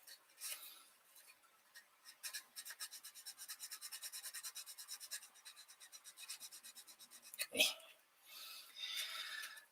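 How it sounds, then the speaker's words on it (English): Close, quiet rhythmic rasping of sanding a small Warhammer scale model part, a steady series of quick back-and-forth strokes, then a sharp knock and a brief pause. "Sanding."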